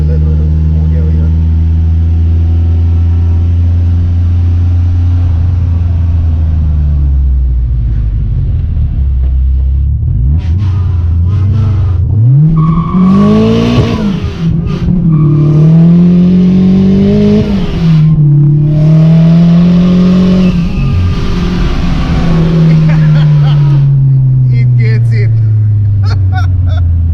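A turbocharged and supercharged Mk2 Golf engine idles, then revs up and down in several loud, close sweeps of rising and falling pitch before settling back.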